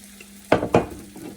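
Buckwheat blini batter cooking in a hot pan, a low steady sizzle broken by two sharp scraping or clattering bursts close by, with no voices.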